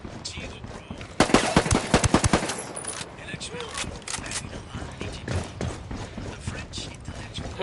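Automatic gunfire in Ghost Recon Wildlands: a loud, rapid burst of shots early on, then scattered, lighter shots and mechanical clatter, with voices talking throughout.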